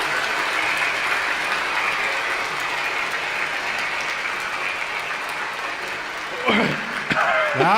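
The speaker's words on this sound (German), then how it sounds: "Applaus, Applaus!" A concert audience at the Germersheim MegaStream claps in a sustained, dense wave of applause, steady and fairly loud, with a voice breaking in near the end over the clapping.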